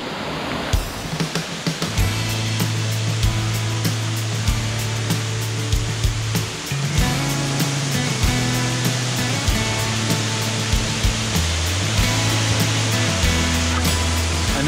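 A waterfall in Bicol roars as a loud, steady broadband rush, with scattered small splashes or knocks and a low tonal drone through much of it, no speech.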